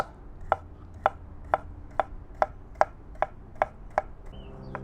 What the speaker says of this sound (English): I'm gonna slice this one up. So maybe slices like this.